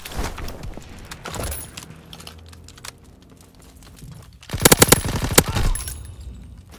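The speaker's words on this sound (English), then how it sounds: "Call for a strafing run." Strafing-run gunfire called in during a WW2 video game, rapid bursts of close, loud automatic fire, one brief volley early and a heavier rattling burst near the end, with quieter game ambience between.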